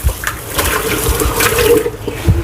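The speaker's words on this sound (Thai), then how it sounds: "เปิดน้ำใส่แล้วก็ ถูถู มันจะมีเศษขี้เศษอะไรติดเนาะเราต้องล้างออกให้หมด" Tap water runs and splashes while beef tripe is rubbed and rinsed under it in a sink, giving a close, continuous gush with shifting splashes and handling noises.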